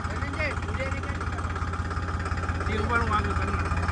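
A tractor engine idles with a steady, low, throbbing drone that runs unbroken throughout, while people talk over it nearby.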